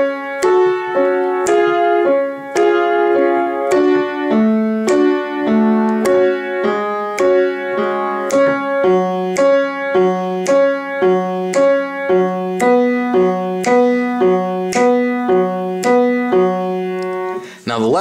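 Piano plays the right-hand part of a song, a clear, close, steady run of struck notes and chords at an even pace for about eighteen seconds, with no voices.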